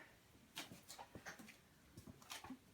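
An 18-year-old dog whimpers and pants faintly indoors in a kitchen, soft short whines in an irregular rhythm with no talk over them.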